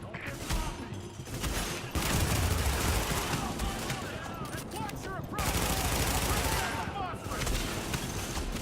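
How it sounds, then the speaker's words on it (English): Rapid bursts of gunfire crackle continuously over a dense, noisy battle din in the video game Tom Clancy's The Division, with repeated volleys and a few sharp pings throughout. "Reporting gunfire in the station above us."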